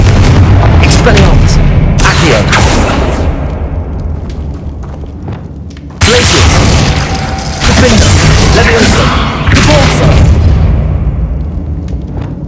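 A fire spell is cast in Hogwarts Legacy with deep booming bursts and roaring flames that swell and fade over several seconds, loud and heavy, with a voice speaking amid the game sounds.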